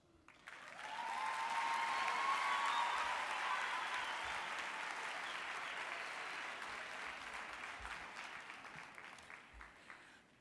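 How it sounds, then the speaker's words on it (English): An audience at a university graduation ceremony claps in a sustained round of applause that swells quickly, stays steady, then gradually thins out as individual claps fade toward the end. "may I ask this audience to give Dr. Mofokeng another round of applause"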